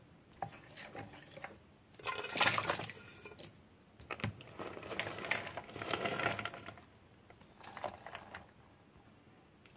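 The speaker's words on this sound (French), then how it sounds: "Avec une grande saladier, je vais mélanger de l'eau avec du sel pour tremper les légumes dedans" Water poured into a large salad bowl and mixed with salt for soaking carrots, white cabbage and celery: intermittent splashing and sloshing bursts, close and fairly quiet, no talk.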